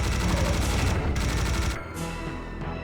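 A minigun fires in the Serious Sam video game, a loud, dense, rapid stream of shots that rattles continuously for nearly two seconds before cutting off into a quieter tail.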